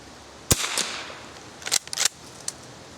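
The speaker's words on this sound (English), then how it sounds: "What's shooting a 22 without shooting at some cans?" Several sharp .22 rifle shots from a Remington Model 12 fired outdoors at cans on the ground, sounding as separate loud cracks with gaps between them and a quick cluster near the end.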